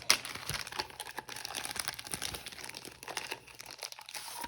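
Rolls of Creative Vision hot foil being handled, producing close, quiet crinkling and rustling with irregular bursts of plastic crackle.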